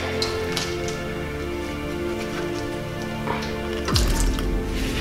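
Acetone poured from a can into a container makes a continuous liquid splashing and trickling sound, steady and close, with a sharper gurgle near the end.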